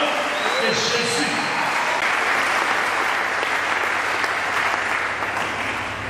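A church congregation applauds and cheers in a loud, dense, sustained wave of clapping that fills the room without letting up, with a voice faintly audible underneath.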